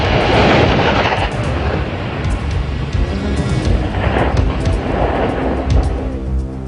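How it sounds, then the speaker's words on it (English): Bangalore torpedo, sections of pipe filled with high explosives set in barbed wire obstacles, detonating in a loud, sustained rumbling blast that rolls on for several seconds with crackling debris. "Bangalore torpedoes, joined sections of pipe filled with high explosives, are inserted through the barbed wire obstacles"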